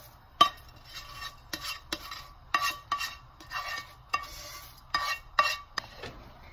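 Repeated clinks and scrapes of a spoon against a metal pot as fried vermicelli is stirred into boiling milk for payasam, with faint bubbling beneath and no voices.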